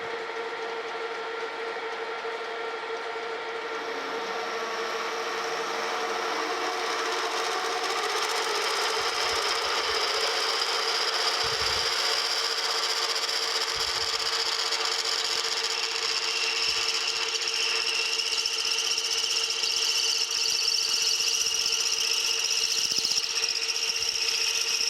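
A 13/16 drill bit bores into metal during work on the cross head elevation system of a metal planer, a steady, loud mechanical drone that builds in the first seconds and continues with occasional low knocks.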